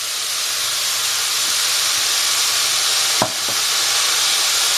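Veggie noodles with vegetables, pepper and soy sauce are tossed in a hot pan, giving a loud, even hiss of sizzling steam cut by one sharp metallic scrape.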